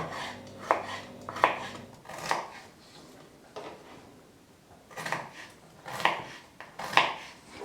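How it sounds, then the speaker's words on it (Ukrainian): A knife slices radish into thin strips, roughly 3 mm thick, on a cutting board: a handful of crisp, close chopping strikes in irregular clusters with quiet pauses between them. "Та ось так тепер нарізаємо на соломку."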